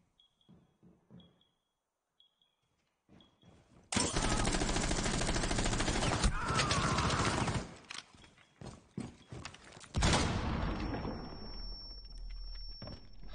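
Gunfire in a competitive 3v3 shooter video game match, a long dense burst of rapid shots followed by a second loud burst, with scattered thuds and footsteps between.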